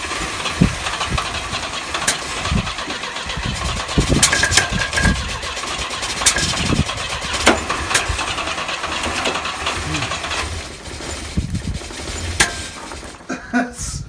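A Volvo 122 Amazon that has sat for 23 years cranks and runs roughly, its engine chugging unevenly with sharp clicks and knocks. The sound is loud and close, with a sputtering break near the end.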